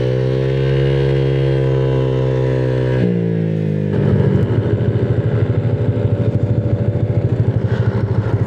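A Honda Click 175cc touring scooter with 14T gearing makes a top-speed run on an open road. The engine's whine climbs steadily in pitch, dips, then settles into a loud, fast, pulsing drone.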